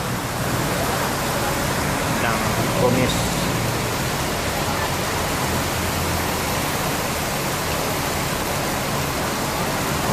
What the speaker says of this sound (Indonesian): Ada hujan lebat.